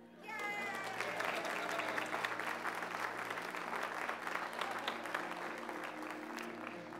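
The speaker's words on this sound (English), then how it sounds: "I thought you were going to clap for them." A church congregation claps during a Sunday worship service, a sustained, even burst of applause from many people that starts abruptly and holds steady, heard at a moderate distance in the room.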